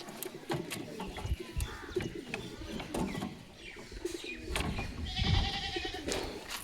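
Pigeons cooing and fluttering nearby amid scattered rustling and clattering, with a soft murmur of other birds in the background.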